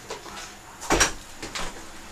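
A door is pushed shut indoors, one distinct thud near the middle with a few softer knocks and rattles around it, close and fairly loud.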